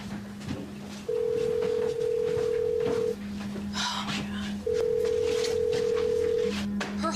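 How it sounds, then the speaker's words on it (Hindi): A mobile phone rings from inside a bag, its electronic tone repeating in long steady bursts with short gaps, fairly close, while muffled movement and scattered voices sound around it. "उसका फोन बैग में बज रहा है।"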